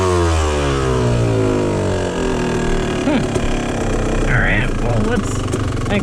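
A Yamaha YZ250 two-stroke dirt bike with rich-running jetting idles close by, its low engine drone briefly rising in pitch with a small rev, while someone talks over it.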